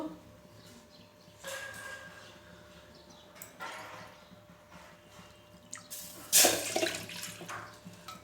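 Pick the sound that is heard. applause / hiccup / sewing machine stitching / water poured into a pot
water poured into a pot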